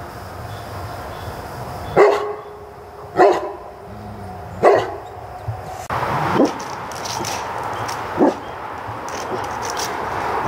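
A dog barks at a flying squirrel up a tree outdoors, with four or five loud, close barks spaced a second or two apart and a brief yip between them.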